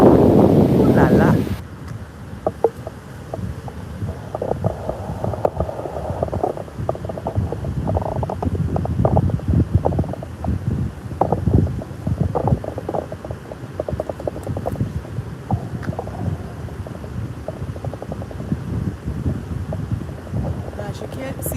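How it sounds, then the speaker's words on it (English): A river in Japan rushes past with a loud, continuous roar of churning water heard up close, mixed with wind buffeting the microphone. "that noise is a thunderous noise of the river going by"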